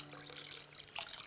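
Water from a tap pours into a cooking pot for dal, a brief soft trickling splash that swells slightly near the end, faint and on its own.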